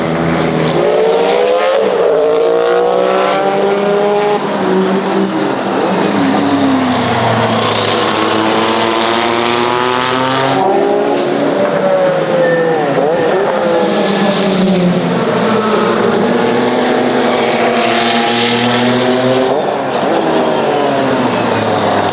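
A Sauber 962 Group C race car engine roars loud and close, its pitch rising and falling through gear changes on a track in Montjuic, continuous and deafening throughout.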